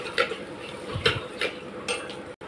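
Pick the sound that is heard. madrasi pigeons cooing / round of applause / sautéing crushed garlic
sautéing crushed garlic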